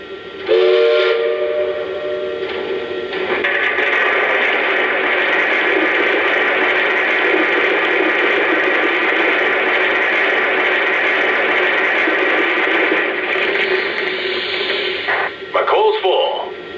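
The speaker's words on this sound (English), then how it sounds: "here's the sound of coal being loaded into the tender." Coal-loading effect from a Lionel 2-8-0 Consolidation model train, Southern #630, a sustained loud rattling, rushing pour of coal into the tender, opened and closed by brief clanking sounds, with no talk over it.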